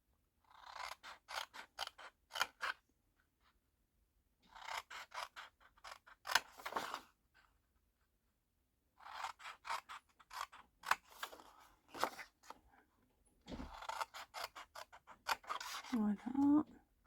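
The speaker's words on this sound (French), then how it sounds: "on va venir couper les bandes du côté des 5 cm, hein, pas du côté des 10" Scissors cutting paper strips for a simple paper cup craft, several runs of rapid crisp snips close to the mic separated by short pauses, with a little paper handling in between.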